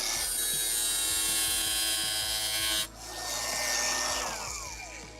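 An angle grinder cutting a slot into a rusted, stripped screw on a kids' ATV scooter. A loud, steady high whine stops abruptly, then restarts and winds down over several seconds.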